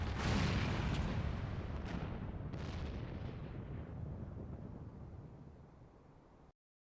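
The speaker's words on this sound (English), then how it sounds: "It must have been the cannon at Castro Mabania." A heavy cannon blast and a collapsing tower in Final Fantasy XIV, a deep booming roar with a few sharp cracks that slowly rumbles away and then cuts to silence.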